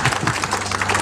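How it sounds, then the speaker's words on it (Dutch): A brief burst of audience applause, dense rapid clapping from a group indoors, lasting about a second with faint voices underneath. "Dankjewel, een applaus"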